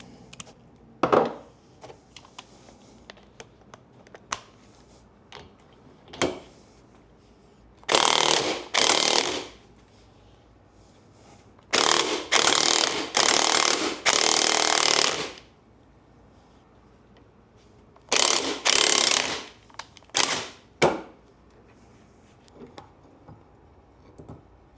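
A ball joint press clamped in a bench vise forces a U-joint cap out of a Jeep TJ Dana 30 axle shaft, giving sharp metallic ratcheting clicks and several loud grinding bursts of a few seconds each, close up with no talking.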